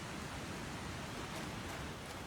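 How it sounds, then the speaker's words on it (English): Steady, dense rain hisses without a break in The Planet Crafter, a close, even wash of noise with no voices over it. "And it's raining."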